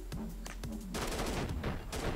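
Gunfire in a first-person shooter video game, a few sharp shots and then a dense, loud burst of rapid automatic fire with no talking.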